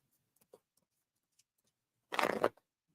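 Tarot cards being shuffled during a reading, a few soft isolated ticks followed by one quick, close riffle lasting under half a second, otherwise quiet with no talking.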